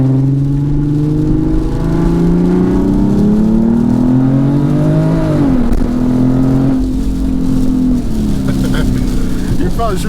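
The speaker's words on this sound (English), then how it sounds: "Shooting some fat flames too." A big-turbo BMW 340i engine revs hard, its loud, steady tone climbing in pitch, dipping briefly, then holding high. Voices may talk over it.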